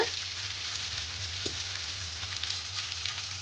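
Tempering spices sizzle in hot oil in a pan as they are stirred for aval upma; the hiss is quiet and steady, with a faint scrape or two and no talking.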